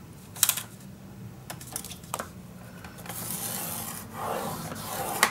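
Paper being creased and scraped along a fold line while assembling a handmade mini album, giving soft rasping strokes and brief taps, close and fairly quiet, with a longer sustained rub near the end and no talking.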